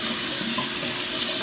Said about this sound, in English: I'm just gonna quickly rinse it